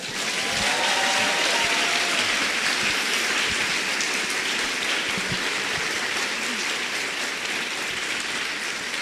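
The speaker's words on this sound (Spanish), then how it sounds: "Entonces, otro pinche aplauso." A large audience claps at an actors' and directors' masterclass, producing a dense, even roar of applause that holds for the whole stretch, with a few faint voices and a brief whistle near the start.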